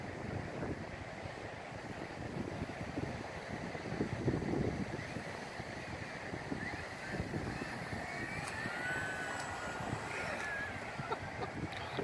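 A low, steady engine drone of a Cessna 150 passing overhead at Fort Fisher beach, mixed with wind buffeting the microphone and distant surf.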